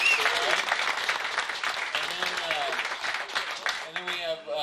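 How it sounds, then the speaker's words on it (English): A crowd at a machinists' summer bash raffle claps and cheers for the first-place winner, dense and continuous, with voices mixed into the applause. "so everybody give him a round of applause"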